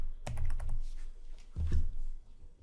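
Computer keyboard being typed on while entering query criteria, two short close bursts of quick clicking keystrokes separated by a brief pause.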